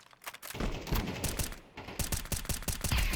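Rapid gunfire from the Counter-Strike 5v5 match, a series of sharp, loud automatic bursts, including an M4 rifle, cracking in quick irregular runs across the whole stretch with no talk over it.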